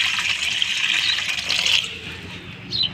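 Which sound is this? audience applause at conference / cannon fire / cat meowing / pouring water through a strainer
pouring water through a strainer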